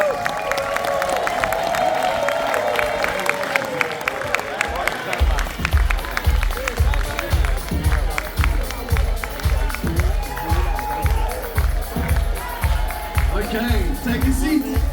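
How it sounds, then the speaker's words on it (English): A crowd applauds and cheers over loud music with a steady thumping beat; a voice briefly speaks near the start. "let's give them some music and a round of applause"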